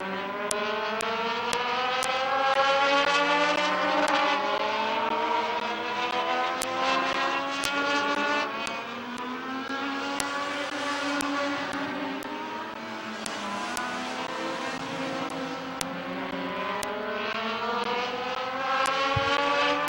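Legend race cars in a feature race at Midvale Speedway, a continuous loud chorus of revving engines with overlapping pitches rising and falling as the pack passes, sustained throughout without talk.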